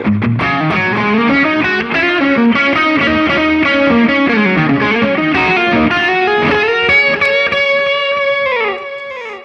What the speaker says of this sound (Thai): ต่อมาเสียงโซโล